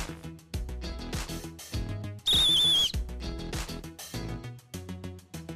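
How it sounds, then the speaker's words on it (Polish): An old pre-war German beer mug with a built-in whistle gives one loud, shrill, warbling whistle lasting under a second, set against a tinkling music-box melody from nearby mugs. "Kufel z gwizdkiem na przykład."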